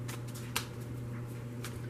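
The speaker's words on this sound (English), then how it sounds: "I have pre-shuffled, so I'm only going to shuffle for a moment" Tarot cards being shuffled briefly, a soft papery riffling with one sharper flick, heard close over a steady low hum with no talking.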